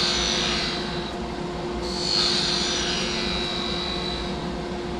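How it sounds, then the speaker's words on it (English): A sharp skew chisel makes a planing cut along a wooden handle spinning on a lathe, giving a steady, continuous hiss and rub over a constant motor hum, with a brighter scraping swell partway through. "Planing cut to clean up the handle."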